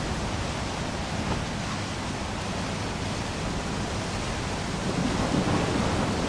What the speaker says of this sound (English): Oh, we got a storm coming in too.